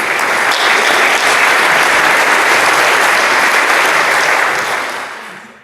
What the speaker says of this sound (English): I would like to make an applause to all PC members.